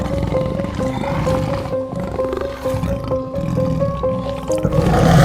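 A tiger lets out a rough roar as it pounces on a cow, heard under a steady, repeating musical tune that runs throughout.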